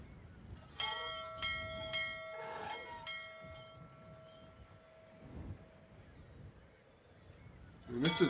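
A bell rings in the adventure video game Syberia, sending out several struck tones that hang and decay over a murky background, with another clang near the end.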